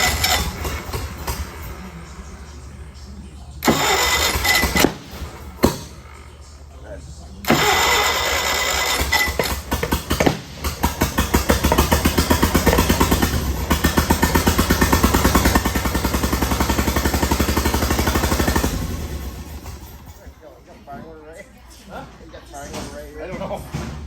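A 1941 Graymarine 4-75 marine inboard engine, long unrun, from a 16-foot Lyman boat, cranks in short loud bursts, catches, and runs at a steady rumble for about ten seconds before dying away, with voices nearby.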